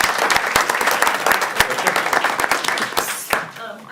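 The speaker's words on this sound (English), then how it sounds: "Can we clap for her?" An audience at a school district meeting claps in steady, sustained applause with sharp individual claps, and voices murmur underneath as the clapping thins out at the end.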